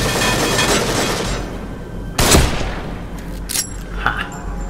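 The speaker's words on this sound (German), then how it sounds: "Ein Schuss, der muss sitzen." A single loud, sharp sniper rifle shot in The Evil Within video game, ringing out over a steady ambient rumble and followed by a few fainter clanks and impacts.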